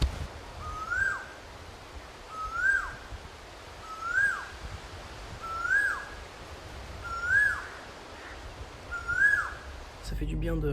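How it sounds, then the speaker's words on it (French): Outdoors in India, a bird repeats the same sharp, rising whistled call about every one and a half seconds, six or seven times in a row, clear above a soft background hiss. "Ces oiseaux alors."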